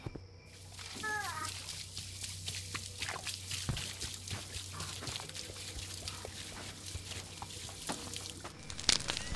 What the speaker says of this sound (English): Pour gas in it.